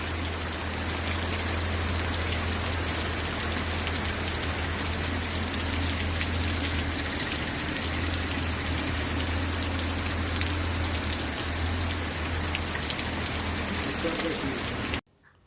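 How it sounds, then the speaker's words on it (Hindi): Heavy rain pours down in a continuous dense hiss of drops striking surfaces, loud and unbroken for about fifteen seconds with a low steady hum beneath, then cutting off abruptly at the end. "देखिए बहुत तेज बारिश होने लगी है ना"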